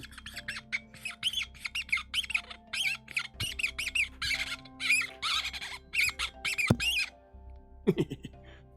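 A bottle squeezed over and over gives a long run of short, high, rubbery squeaks in quick irregular bursts, fairly close and loud, with a low room hum underneath.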